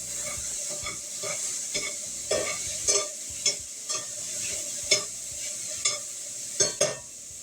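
A spoon stirs charred chicken through a sizzling sauce in a hot pan, with steady frying hiss and repeated scraping strokes that grow sharper toward the end, close up with no voices.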